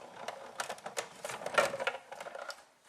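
A die-cutting machine running a magnetic plate through, a faint, close, rapid clattering and ratcheting for a few seconds.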